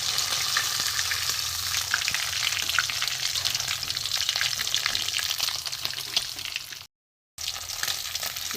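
Hilsa fish frying in hot oil in a home kitchen, a steady, dense crackling sizzle that carries on alone throughout, broken once by a short silent gap near the end.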